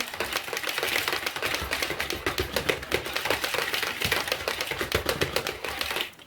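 A spoon stirs yogurt quickly into vanilla Easter cake batter in a bowl, making a fast, even stream of close clicks and taps that carries on steadily with no talking.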